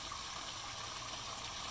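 A solar fountain waterfall splashes into a garden pond, a steady, even rush of falling water heard up close and alone, with no pauses or voices.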